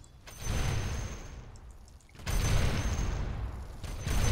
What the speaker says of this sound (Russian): они как-то по чуть-чуть бегут и взрывают сразу целую кучу мин